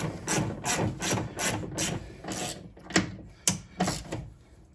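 A ratchet wrench tightens a bolt on a Jeep Patriot door panel near the window track mechanism. It gives close, crisp bursts of rapid clicking in a regular back-and-forth stroke rhythm, with no talk.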